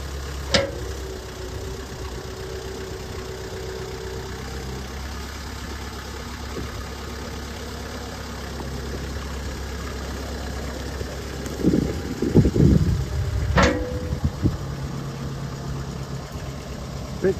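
A Kubota M59 tractor engine idles low and steady at minimum throttle, a continuous mid-pitched rumble with a brief louder surge of mechanical noise near the end.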